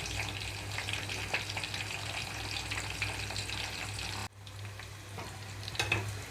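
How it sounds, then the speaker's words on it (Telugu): Pieces of bitter gourd frying in a pan give a steady, close sizzle with crackling pops, briefly dropping quieter partway through before the spitting rises again. "కొన్ని ముక్కలు మాత్రమే వేసి వేయించుకున్నాను నేను ఇక్కడ"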